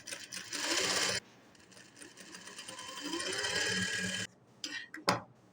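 A sewing machine stitches a drawn shape in bursts of rapid, close, loud whirring, pausing briefly as the cloth is turned, with a few clicks at the end.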